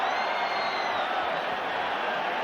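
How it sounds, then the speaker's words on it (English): A boxing arena crowd roars steadily at the bell during a Julio Cesar Chavez vs. Miguel Angel Gonzalez WBC bout, a broad sustained wall of cheering and whooping heard throughout. "the crowd erupts as the bell sounds"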